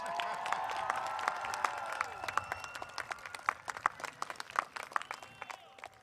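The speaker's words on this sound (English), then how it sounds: "Let's hear a little bit more clapping for your families." Graduation ceremony audience at a college of education and graduate school commencement applauding for families, scattered claps and some cheering rising and thinning over several seconds, fairly distant in a large hall.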